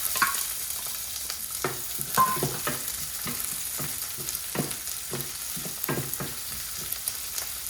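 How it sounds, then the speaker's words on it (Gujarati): Finely chopped onion crackles in hot oil for Gujarati aloo poha, a close frying sizzle broken by a regular series of short scraping stirs, with no voices. "હવે આપણે આ જે ઝીણી સમારેલી એક ડુંગળી લીધી છે એ નાખીશું।"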